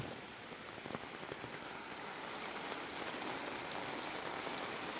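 Steady, dense rain hisses down onto a hard sheet-metal roof, a constant wash of patter with no pauses and no voices, during flooding of the Nira River.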